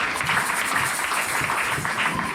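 Congregation applauding during a church service, a dense, steady wash of clapping that fills the space at moderate loudness without pause.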